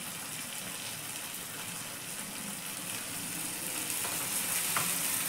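Ground cumin, turmeric, salt and a splash of water sizzle in a pan as a masala for Bengali mushroom kosha is fried and stirred, a continuous bright hiss and crackle that grows slightly louder toward the end.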